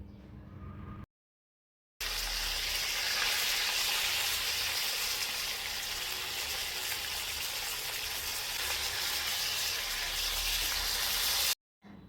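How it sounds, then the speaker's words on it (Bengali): Pomfret fish frying in a pan over medium-low heat, giving a continuous, even crackling sizzle that runs unbroken for about ten seconds between brief silent gaps. "মাছগুলোকে 4 থেকে 5 মিনিট ভাজার পর উল্টে দিবেন"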